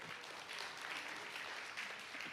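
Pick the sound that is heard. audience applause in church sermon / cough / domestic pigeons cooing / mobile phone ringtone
audience applause in church sermon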